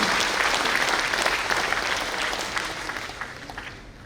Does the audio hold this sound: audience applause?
yes